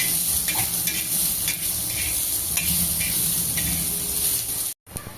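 Onion roasting in a pan over a medium gas flame for a Maharashtrian thecha, giving a steady close sizzle and hiss with occasional soft stirring scrapes, alone without voices.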